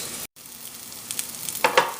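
Meatball kebabs frying in a little oil in a pan, a steady close sizzle after a brief dropout, with a few sharp clicks of a utensil toward the end.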